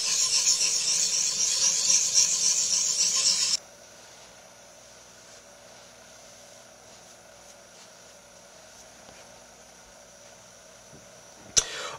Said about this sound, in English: begin our actual sharpening process on the fine side of our stone